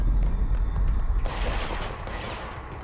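Rapid, loud gunfire from enemies in the video game Control, a dense burst of overlapping shots that carries on steadily, then thins slightly into a wash of echoing blasts.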